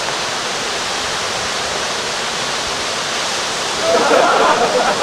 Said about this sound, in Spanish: Me encuentro en la cascada conocida como Salto de los Órganos.